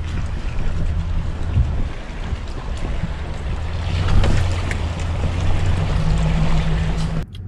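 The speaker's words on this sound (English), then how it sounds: "pretty cool when you get to drive through the creek that you fish." A vehicle drives through a trout creek, with steady rushing water and splashing mixed with low engine rumble and wind buffeting, continuous and close for several seconds, no talking.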